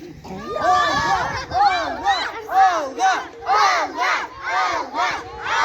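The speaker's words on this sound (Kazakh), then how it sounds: "Қыздар, ұлдар айқайлаймыз." A group of boys and girls shout a battle cry together at an outdoor Nauryz holiday event, several loud rhythmic chanted bursts in a row, close and energetic.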